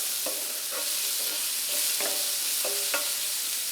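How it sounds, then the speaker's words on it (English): Onions sauté in a pan with a dense, steady sizzle up close, punctuated by several light scraping strokes of a utensil at irregular intervals. "So now we're going to saute these onions until they've got a nice color to them."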